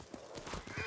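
Horse hooves clip-clop in a video game, a quick run of soft rhythmic knocks close by over a low background, lasting under a second.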